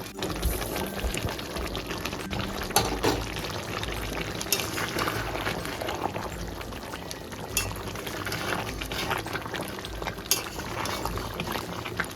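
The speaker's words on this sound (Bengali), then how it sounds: "এইবার উপর থেকে দিয়ে দেবো ভেজে রাখা আলুগুলো" Fried potatoes go into a pan of chicken curry made with peas and sour yogurt over low-to-medium flame. Steady bubbling and sizzling continues throughout, with occasional soft clinks and thumps of pieces and a utensil, and no talk.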